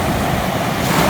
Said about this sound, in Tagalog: Dahil nga po siguro may bagyo at malakas po yung alon saka yung hampas ng tubig.